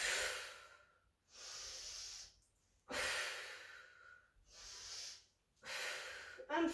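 Forceful exhales from a person in knee planks during an advanced core workout, four heavy breaths in a steady rhythm, close and airy, with a quick sniff at the end.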